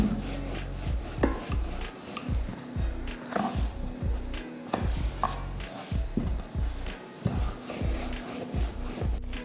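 Snack dough for Diwali treats being rolled thin with a rolling pin on a board, a steady repeating series of soft thuds and rubbing strokes at close range, with no talking.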